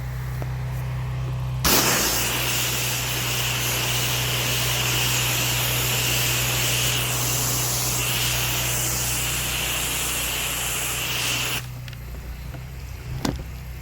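A water spray rinses a bug-covered house near a lake in Kissimmee, Florida, during a soft wash: a loud, even hiss starts abruptly, runs for about ten seconds over a low engine drone, then cuts off.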